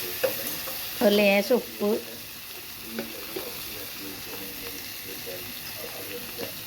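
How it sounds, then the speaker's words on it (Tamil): Tomatoes frying with garlic, curry leaves and green chillies in a home kitchen, a soft steady sizzle with a few stirring scrapes, while someone speaks briefly. "பூண்டு, கருவேப்பிலை, பச்சை மிளகாய் எல்லாம் வதக்கின பின்னாடி தக்காளி போட்டு நல்லா வதக்கணும்"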